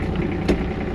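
A compact loader's engine idles in a video game, a steady low rumbling drone with one brief soft knock in the middle.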